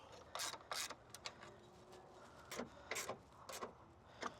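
Ratchet tightening the battery hold-down nut on a 2008–2013 Toyota Highlander, heard as short quiet bursts of clicking pawl strokes with brief pauses between, close by and without talk.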